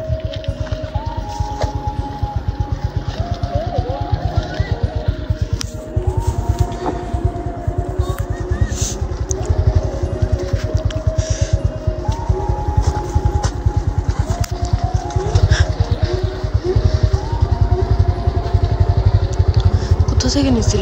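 A rented motorbike ridden on the road, its engine humming steadily and close throughout with a low rumble and some wind, while people talk over the ride.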